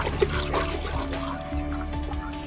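Water poured and trickling steadily while diluting dog shampoo for bathing a Rajapalayam dog, a continuous close liquid splash lasting throughout.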